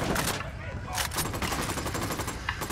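Rapid automatic gunfire bursts from a Ghost Recon Wildlands firefight, a dense crackling volley that runs throughout, with voices talking over it.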